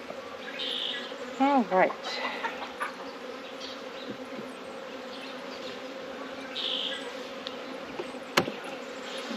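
Honey bees in a hive box building out comb make a steady, close buzzing hum that holds throughout, with a few louder rising drones passing near and a brief voice speaking.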